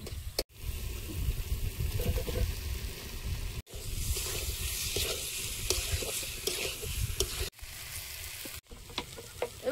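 Potatoes tipped into a frying spice masala of melted tomato hiss in a loud, steady sizzle, with spoon-stirring scrapes and a few brief breaks as the pan is worked.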